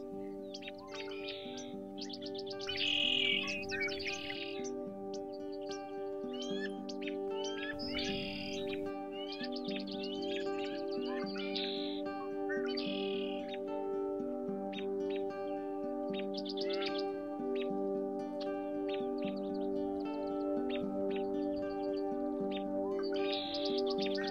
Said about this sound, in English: the one on the right is doing this puffed out bird call